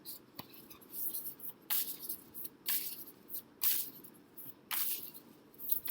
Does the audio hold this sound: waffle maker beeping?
no